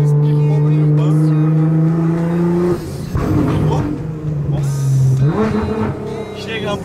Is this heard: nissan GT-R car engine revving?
yes